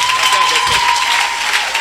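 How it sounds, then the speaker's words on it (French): A church congregation applauds and cheers during a worship service, steady, dense clapping filling the whole moment, with a voice faintly audible over it. "Tes acclamations sont faibles."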